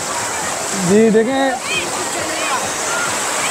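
Strong waves and fast-flowing water rush steadily at Turtle Beach, Hawkes Bay, a loud continuous wash of surf as someone speaks briefly over it.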